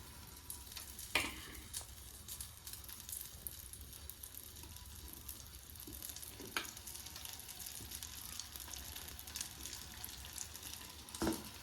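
Steady, quiet sizzling of lentil batter fritters frying in hot oil, with a few faint clicks and no voices.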